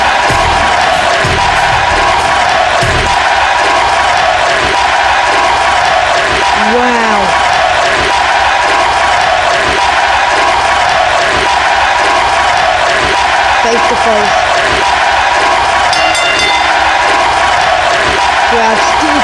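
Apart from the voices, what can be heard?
wrestling crowd chanting and cheering for Eddie Guerrero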